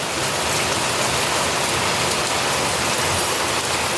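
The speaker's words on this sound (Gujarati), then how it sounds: "જો વરસાદ બહુ આવ્યો." Heavy rain pours down steadily, a dense, even hiss of drops striking surfaces that holds at a constant loud level throughout, with no voices.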